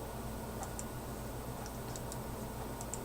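Faint, sparse clicks of typing on a computer keyboard, a few scattered keystrokes over a steady low background hum.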